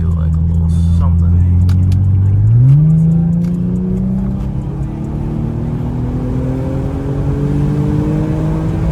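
Infiniti G37 fitted with a cold air intake accelerates hard, engine pitch climbing after a gear change as revs rise, loud and close from inside the car.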